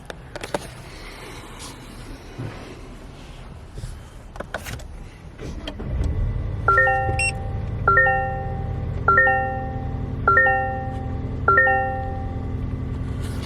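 A 2025 Toyota Tacoma TRD Off Road pickup is started from inside the cab. A few soft clicks lead to the engine catching and settling into a steady low idle, while a repeating electronic warning chime sounds at regular intervals.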